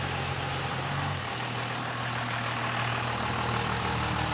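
Diesel engine of the Roadkill ramp truck idling and running steadily, a loud, continuous low rumble with a slight shift in pitch partway through as throttle is applied, no voices.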